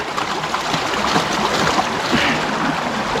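Water is splashed and poured into a gold-panning sluice outdoors in Wicklow, making a steady, close rush and trickle of running water with no talk.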